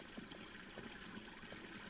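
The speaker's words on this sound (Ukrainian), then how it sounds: "Ось ця вода тече, тече, тече, тече і не перестає текти." Water running steadily from an open tap that will not close, a continuous soft rushing with faint rhythmic gurgles, fairly quiet and alone.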